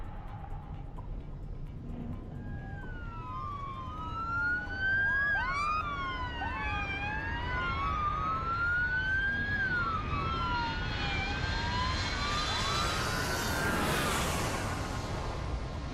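Emergency vehicle sirens wail at an airport during an emergency landing, several overlapping rising and falling tones sustained over a rumbling background, growing louder and denser toward the end.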